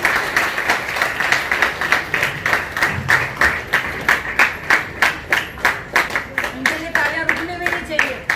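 Audience at a swearing-in ceremony in Jodhpur clapping in unison, sharp rhythmic claps roughly three per second, with a voice speaking faintly underneath.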